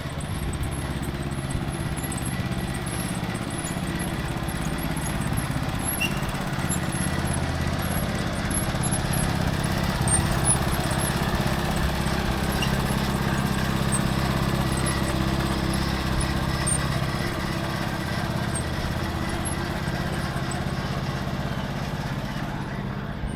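A lawn tractor engine converted into a homemade vehicle runs on a town street, giving a low, steady chugging drone heard from a moderate distance amid faint outdoor background noise.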